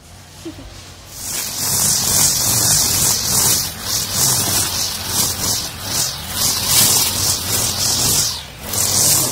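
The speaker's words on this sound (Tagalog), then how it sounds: "Nag-grass cutter." A grass cutter slices through overgrown grass to clear ground for planting vegetables: loud, repeated swishing sweeps with a hissy rasp, rising and falling in rhythmic passes after a quiet start.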